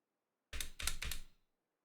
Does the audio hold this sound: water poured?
no